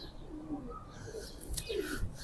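Sabz Chena pigeons, a mated pair, give soft, low cooing calls close by, faint and intermittent over quiet background noise.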